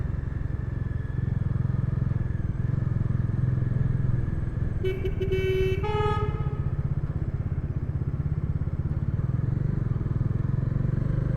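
A motorcycle riding on the Mumbai-Goa highway gives a steady, close engine drone throughout, and a few brief horn toots from traffic sound around the middle.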